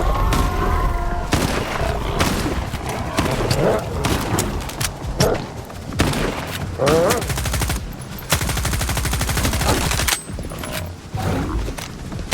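Bursts of automatic gunfire in a firefight in the shooter video game S.T.A.L.K.E.R. 2: Heart of Chernobyl, loud and repeated in rapid rattling volleys, with voices speaking over the shooting.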